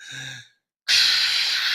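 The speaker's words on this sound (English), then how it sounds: "So I'm working on my out loud breathing. The fire breath." Loud, forceful fire-breath exhalations from a breathing exercise, an opening burst of breath, a brief pause, then a sustained hissing rush of air close to the mic.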